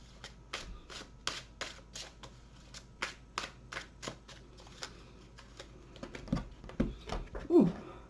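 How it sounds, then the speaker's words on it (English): A deck of tarot cards is shuffled in a quick series of soft, papery riffles and taps, faint and close, with a few rustling handling noises at the end. "I'm going to shuffle a different deck and try and pull some clarifiers"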